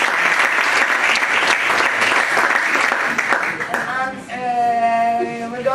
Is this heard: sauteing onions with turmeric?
no